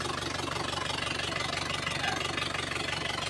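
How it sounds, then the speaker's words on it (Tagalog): A car engine idles steadily throughout, a continuous low rumble with an even mechanical texture, fairly close and unbroken, with no voices. "Ito yung makina natin."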